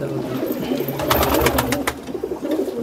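Pigeons of the border breed coo steadily inside a large loft setup, a close, rolling cooing that swells in the middle with a few sharper flutters or calls, with no talking over it.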